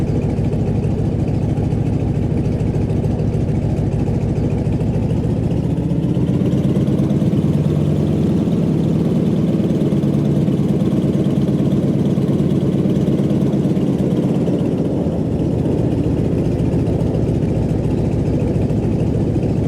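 A Stearman biplane's radial engine idles while the aircraft taxis, a steady, loud low rumble that drones on continuously with slight shifts in tone and no talk over it.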